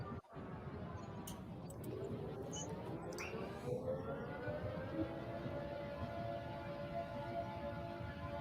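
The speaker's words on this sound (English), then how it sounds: "I was letting you finish your air raid sirens because I know you like them." An air raid siren winds up and holds a long, wavering, rising tone for several seconds, heard from a distance over low background rumble with a few faint knocks near the start.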